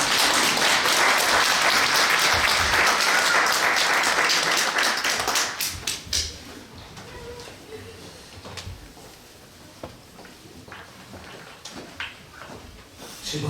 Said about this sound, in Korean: 우리 큰 박수로 회장님 맞아봅시다